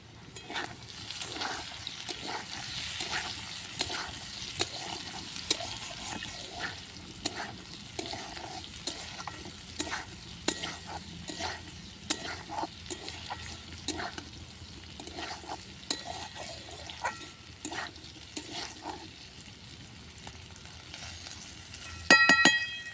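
Potatoes fry with green chillies in a pan for aloo posto, making a continuous close sizzle broken by frequent scraping and clicking as the pieces are stirred, with a louder clatter at the end.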